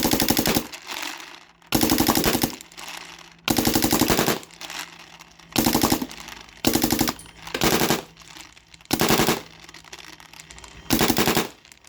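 A Planet Eclipse EMEK 100 paintball marker fitted with a full-auto switch and Speedster loader fires nylon balls in loud, rapid full-auto bursts of about 11 shots per second, with short pauses between the strings of fire.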